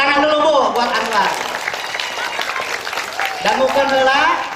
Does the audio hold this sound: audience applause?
yes